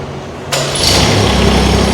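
A small Kaira rice transplanter engine cranks and catches at once, settling into a steady, fairly loud running drone with a high-pitched whine on top.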